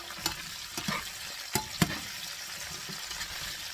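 Green beans blister over high heat in a hot pan, Chinese buffet style, giving a steady crackling sizzle broken by a few sharp clanks and scrapes of stirring, close and alone.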